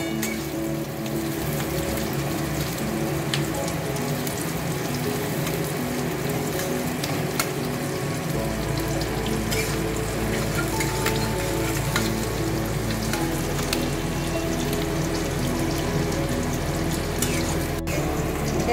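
Onion and garlic fry gently in a pan for mustard chicken, making a steady soft sizzle with faint stirring, heard close and without talk.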